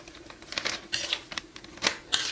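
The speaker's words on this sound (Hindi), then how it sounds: "अब हम इसको करेंगे जी ज़िप-लॉक बैग में पैक।" Homemade masala is packed into a plastic zip-lock bag, making intermittent crisp crinkles and rustles of plastic in short, uneven bursts at close range.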